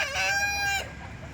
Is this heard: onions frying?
no